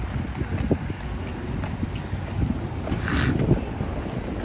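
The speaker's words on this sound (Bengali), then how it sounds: "ঠান্ডা বাতাস।" Cold wind blows beside the ocean at Port Campbell, a steady low buffeting rumble with faint surf beneath and an occasional brighter gust swelling toward the end.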